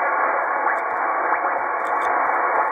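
CW Morse sidetone from a Yaesu FT-2000 amateur radio transceiver, a steady tone sitting in continuous band-limited receiver hiss, loud and unbroken for under three seconds, with no voices.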